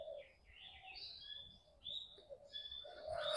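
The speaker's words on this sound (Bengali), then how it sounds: "এই দেখো অনেক রকমের পাখি আছে" Several birds chirp and call faintly in Bethuadahari forest, with short, scattered tweets and whistles over a quiet, distant background.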